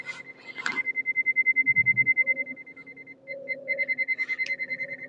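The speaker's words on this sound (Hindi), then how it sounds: "गाड़ी बीप दे रही" A car's reversing parking sensor beeps rapidly and steadily while backing toward another vehicle in a tight spot, pausing briefly and then resuming its fast pulsing tone.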